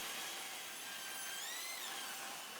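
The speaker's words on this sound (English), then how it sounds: "I trimmed both sides of the 2x4 and resaw it in half." Saw resawing a 2x4 wood board in half, a continuous high whining cut with the pitch shifting slightly as the blade moves through the wood, steady and fairly faint.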